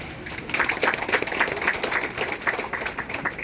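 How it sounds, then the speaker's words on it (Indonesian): Scattered congregation clapping at a church sermon in Papua, a moderate patter of many hands that pulses unevenly and stays fairly close and steady throughout. "tepuk tangan untuk kemuliaan Tuhan."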